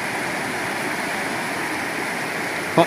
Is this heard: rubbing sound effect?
no